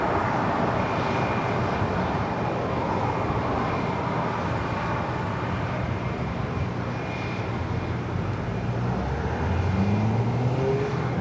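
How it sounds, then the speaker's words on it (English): A China Airlines Cargo Boeing 777 freighter takes off from runway 25 right at LAX, bound for Miami, with a loud, steady, broadband jet engine roar that holds throughout and grows slightly near the end. "Up next, we have China Airlines Cargo 5224. Departing to Miami on a 777 freighter"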